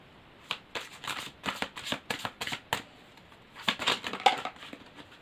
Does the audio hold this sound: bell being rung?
no